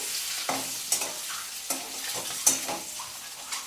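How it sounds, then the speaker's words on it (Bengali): Eggs lightly frying in a pan, an even sizzle broken by several sharp clinks and scrapes of a utensil at irregular intervals, close by with no voices. "তারপর আমি ডিমগুলো একটু হালকা ভেজে নিলাম"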